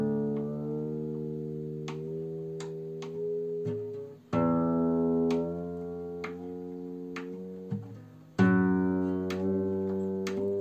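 Guitar strings are plucked repeatedly as one loose string is tightened against a tuner app, the ringing tone rising in pitch between fresh plucks, with a few sharp tuner-like ticks and no speech over it.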